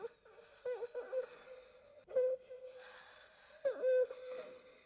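A woman's strange, wheezing snore in a 1977 horror film scene repeats in rasping, tonal breaths with pauses, fairly quiet against a soft background.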